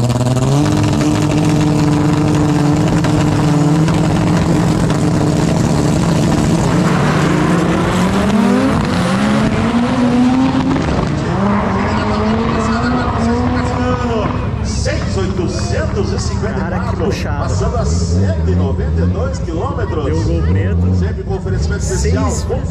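Race car making a pass at a no-prep drag racing event at Tarumã, a loud engine roar rising in pitch then shifting as it passes and fades, with someone talking excitedly over it throughout.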